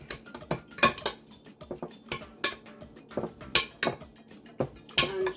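A utensil mixes seasoned ingredients for Cajun chicken and shrimp Alfredo in a bowl, producing a rhythmic series of close clinks and scrapes of metal against the dish.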